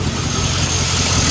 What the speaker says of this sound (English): I'm letting the engine warm up before I seafoam it